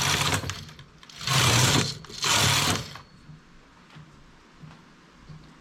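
Knitting machine working rows of lace stitch: two loud sweeping carriage passes, a short pause between them, followed by quieter clicks and handling noises, close and without speech.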